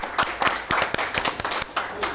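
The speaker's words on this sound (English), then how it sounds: "So another round of applause for" Scattered clapping from a small audience at a student creative writing club reading, a handful of distinct, uneven hand claps close by rather than a full ovation.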